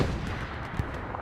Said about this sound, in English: Some HE rounds being shelled by Bossman's tank.